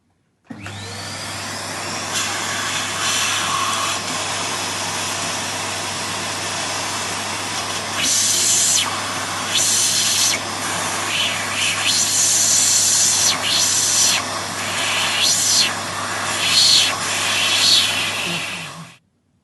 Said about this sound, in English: all the dust has been sucked by that vacuum cleaner